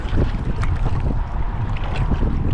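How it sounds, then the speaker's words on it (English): Strong wind buffets and roars continuously around a kayak out on the water during a Memorial Day bass fishing trip, loud and close with rushing gusts and no speech. "Because this wind, if you've never been on a kayak before, the wind sucks."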